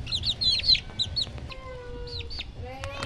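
One-month-old Gilmore hatch gamefowl chicks peep and cluck in quick, high-pitched bursts, several birds calling close by over a low background rumble.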